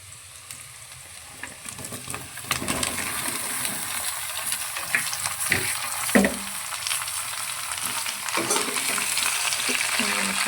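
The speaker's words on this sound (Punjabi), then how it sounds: "ਪਿਆਜ਼ ਆਪਣੇ ਬਿਲਕੁਲ ਪੂਰੀ ਤਰ੍ਹਾਂ ਬਰਾਉਨ ਹੋ ਚੁੱਕੇ ਆ ਹੁਣ ਅਸੀਂ ਪਾ ਦਾਂਗੇ ਇਹਦੇ ਵਿੱਚ ਸਬਜ਼ੀ" Browned onions and summer squash fry in a pan, a continuous sizzle that grows louder as the vegetable goes in, with scraping stirs and metallic spoon clinks against the pan.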